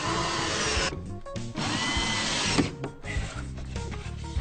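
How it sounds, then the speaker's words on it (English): A power drill whirs into wood frames in steady runs, pre-drilling, briefly stopping and restarting, close up and loud with no talking. "We pre-drill and countersink all of the frames to ensure that they don't split."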